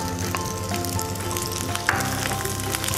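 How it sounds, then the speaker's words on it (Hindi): Chopped Veg Bytz hit hot oil and fry with a steady, loud crackling sizzle, dotted with small pops and spits, no voices over it. "हमारा तेल गर्म हो चुका है। तो हम इसमें सबसे पहले वेज बाइट डालेंगे जो हमने चॉप किया करके रखा हुआ था"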